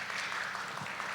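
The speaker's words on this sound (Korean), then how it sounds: "박수 한번 주세요." A church congregation claps together during a Korean Bible lecture: a brief, steady burst of dense applause filling the space at moderate loudness, with no clear pauses.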